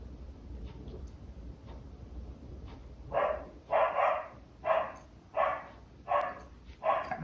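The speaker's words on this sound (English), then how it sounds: "Got my neighbor's dog barking, kind of distracting him." A neighbour's dog barks in the distance, a series of six or seven evenly spaced barks over a quiet outdoor background.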